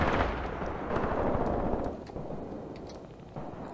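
Gunfire from a machine gun firing on an enemy mortar position in the Graviteam Tactics war game, dense continuous rattling bursts with heavy rumbling booms, loud and close, no speech.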